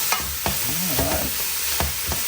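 Vegetables sizzle steadily in hot cooking oil in a pot for a lamb stew, a constant close hiss broken by a few sharp pops and stirring knocks, with no talk.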